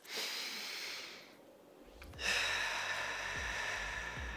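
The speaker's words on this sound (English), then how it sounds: "take nice, long, deep breaths" Slow, deep breathing during a calming exercise, a long airy inhale and exhale with a brief pause between, close and fairly soft, with no voice.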